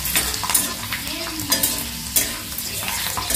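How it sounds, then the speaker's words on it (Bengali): Pakoras and chips frying in a pan of oil, a steady crackling sizzle with scattered louder pops and stirring scrapes, close and alone with no talking. "চলো পকোড়াটা ভেজে নিই, চিপস ভাজব"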